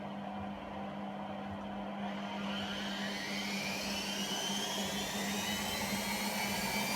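A Hotpoint WMA32 washing machine with an empty drum spins up toward a 1200 spin, a steady close whirring drone with a tone that rises gradually as the drum gains speed.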